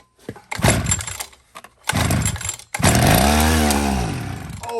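A small engine on an ammo box scooter sputters through two short bursts, then catches and runs steadily, loud and close, its revving pitch rising and falling.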